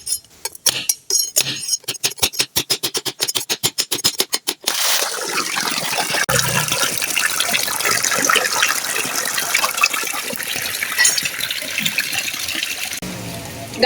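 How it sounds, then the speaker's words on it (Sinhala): Water gushes out of a fish pond outlet during cleaning, a rapid series of sharp clinking pulses giving way to a loud, steady rushing flow close by. "දැන් මේ වතුර ටික අරින්න ඕනේ යාළුවනේ"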